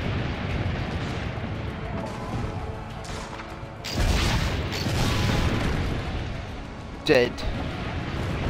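Booming blasts and crashes of cannon fire burst out amid battle noise in Assassin's Creed Brotherhood, with a voice speaking over the action.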